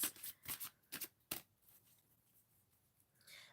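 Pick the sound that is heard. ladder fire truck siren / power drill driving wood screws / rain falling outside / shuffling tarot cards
shuffling tarot cards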